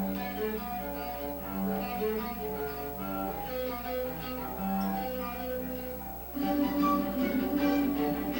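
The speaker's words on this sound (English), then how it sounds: "This cello is made from an oil can and wood that was thrown away in the garbage." A homemade cello built from a discarded oil can and scrap wood plays bowed, sustained notes alone at moderate loudness, with a steady drone underneath and a louder, brighter passage near the end.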